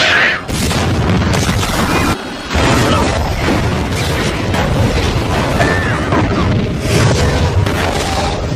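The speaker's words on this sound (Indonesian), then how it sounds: "ternyata bom peledak yang sudah dipasang langsung meledak" A planted bomb detonates in a film scene, booming blasts and crashing debris rolling on loudly with dense rumble, a short lull, then more heavy, chaotic destruction noise.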